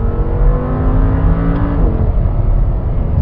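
A 2014 Audi R8 V10 supercar engine revs with a loud, close, continuous roar. The pitch rises and falls through a rev before settling, with no voices.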